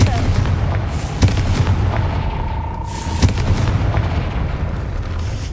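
A fiery Confringo spell blast from the Hogwarts Legacy video game, with two sharp booming impacts over a continuous rumbling game ambience, the second burst landing a couple of seconds after the first.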